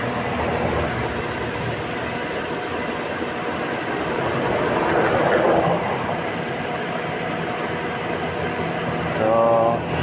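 A radiator cooling fan on a Toyota Vios with a dual VVT-i engine and an overheating problem whirs steadily up close, with engine running beneath it and a brief squeal near the end.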